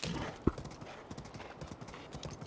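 Horse hooves clip-clop in The Legend of Zelda: Breath of the Wild, a faint, quick patter of game hoofbeats with a single louder thud near the start, under quiet background sound.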